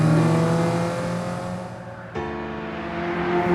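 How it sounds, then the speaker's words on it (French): A Ferrari Mondial T cabriolet's V8 engine revs, its harmonic drone sliding down, then jumping sharply higher as a new gear or throttle surge kicks in, loud and close, with no voices. "Le son du moteur est enivrant, surtout lorsqu'il monte dans les tours."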